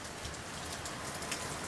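Steady rain falling outside in the Azores, heard through a window as an even, dense hiss of drops with no pauses, constant in level and free of voices.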